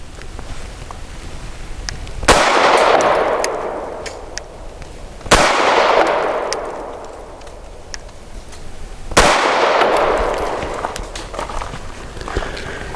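Three loud pistol shots from a Tisas Zigana PX-9 firing Norma 108 grain monolithic hollow points, evenly spaced about three seconds apart, each a sharp crack with a ringing outdoor decay.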